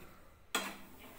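A brief scrape and rattle of salted peanuts stirred in a pan as they roast over medium heat, one sudden burst of shuffling that quickly fades to a faint hiss.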